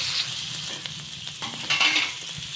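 Eggs with green chilli and salt frying in a pan, a bright steady sizzle with a few stirring scrapes, close and fairly loud, no speech.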